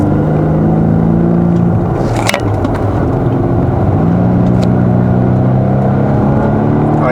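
A Volvo V60 Cross Country T5 pulling away in dynamic mode, its engine a steady low drone heard from inside the car, with the pitch dipping and climbing again as the transmission shifts, amid constant road and cabin noise.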